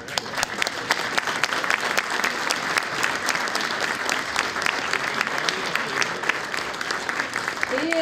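Audience applauding a U10 girls' field handball team, Danish champions, at a municipal awards ceremony in Kerteminde; dense, steady clapping fills the whole stretch with scattered sharp individual claps and a faint voice near the end.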